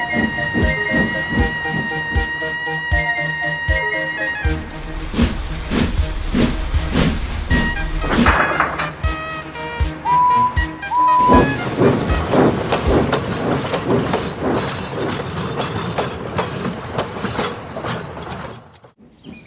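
A steam locomotive working along a railway, with rhythmic mechanical chuffing and clanking, a brief whistle partway through, and a loud, continuous rolling clatter.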